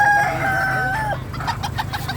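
Native chickens, including young hens, cluck and call nearby, with a drawn-out crow at the start followed by a quick run of short clucks.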